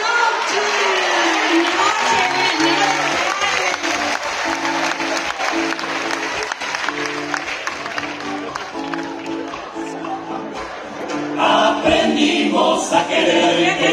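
Audience applause and cheering at a live show, dense clapping with whoops building up near the end over a background of music.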